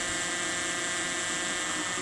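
A steady, high-pitched whir of a sharp drill bit slowly boring through a carbon kayak hull, continuous and close, with no pauses.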